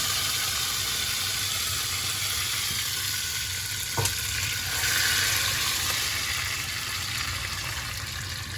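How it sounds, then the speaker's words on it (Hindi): Chickpeas being tempered with green chillies in a hot oil pan, giving a continuous loud sizzle and crackle with a brief clatter of stirring midway, and no one talking. "तो अभी तड़का लगा रहे हैं।"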